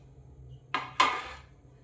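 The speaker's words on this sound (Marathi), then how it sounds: "पाणी टाकल्याच्या नंतर यात आपण एक जाळी ठेवून घेऊया" Two quick metallic clanks sound close up as a metal steaming rack and then a plate are set down inside a water-filled pot, the second knock louder and ringing briefly.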